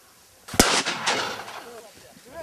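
Hunter's shotgun blast at the opening of the bird hunting season, one sharp loud report followed by a rolling echo that fades over a couple of seconds outdoors.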